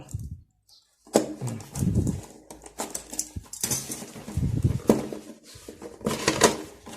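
A boxed Transformers Cybertron Sideways knockoff toy is unpacked up close: brief silence, then busy rustling of cardboard and plastic, crinkles, taps and small clattering bursts in an irregular rhythm.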